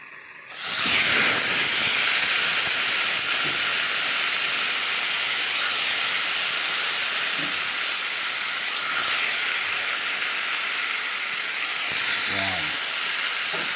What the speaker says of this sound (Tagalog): igisa na rin natin itong pork